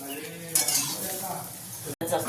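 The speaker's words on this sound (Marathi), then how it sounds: "कढई ठेवलेली आहे, त्यामध्ये कांदा टाकलाय, कढीपत्ता टाकलाय आणि थोडीशी कोथिंबीर टाकली" Onions, curry leaves and a little coriander roasting in a kadhai over a wood-fired chulha, giving a steady close sizzle with stirring scrapes and a brief break near the end.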